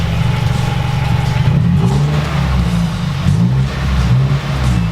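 A 2019 Subaru WRX with an AWE Track Edition cat-back exhaust idles with a deep exhaust burble, swelling into several moderate revs that rise and settle, steady and close throughout.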